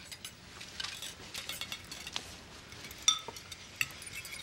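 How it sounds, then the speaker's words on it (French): Metal utensils clink and clatter against dishes in a steady busy jumble, with a few sharper, brighter clinks standing out near the end. "J'aurais jamais pensé que ça pourrait faire autant de bruit, des ustensiles."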